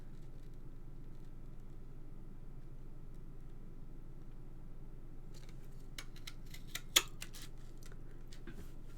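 Scissors snip out a tiny paper dragonfly for a garden-themed card. After several quiet seconds, a run of faint, quick cuts clusters near the end over a low background hum.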